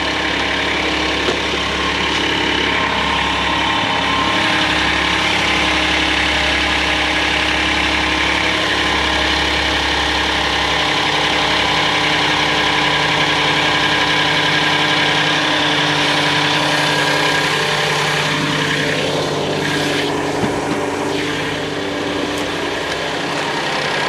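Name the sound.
Hyundai Santa Fe XL engine running with an unusual noise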